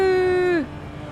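A race car engine in the driving game Assetto Corsa holds a steady, bright, high tonal whine, then drops sharply in pitch and falls away into a quieter low hum.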